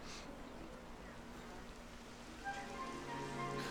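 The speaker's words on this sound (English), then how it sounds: "It would have to go and start raining, wouldn't it?" Steady rain falling in the video game Lightning Returns, a continuous dense hiss without pause, with a faint tonal music-like hum rising toward the end.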